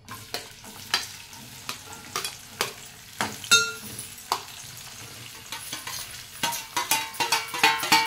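Onions and tomatoes fry in hot oil for a mutton curry, with a soft sizzle broken by sharp, irregular scrapes and knocks of a spoon stirring the pan, growing busier toward the end.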